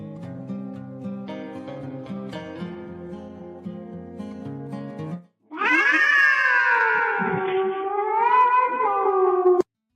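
A cat lets out a long, loud, drawn-out meow after a stretch of gentle piano music, which then stops abruptly.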